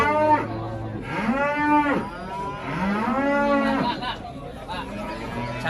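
Cattle at Nongkojajar livestock market in Pasuruan give several long, loud, drawn-out moos one after another, with a low murmur of market chatter underneath.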